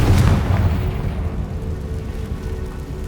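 A Confringo fire spell from Hogwarts Legacy bursts with a deep boom that rumbles and slowly fades over a few seconds.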